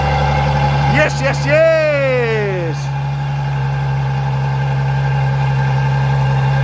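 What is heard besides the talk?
Ferrari V12 engine running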